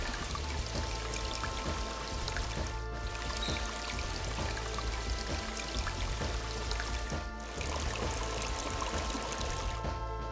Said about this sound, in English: The waters of this stream were crystal clear and cold.